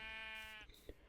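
Sheep bleat inside a pen in the Minecraft video game, giving one wavering bleat that fades under faint game ambience.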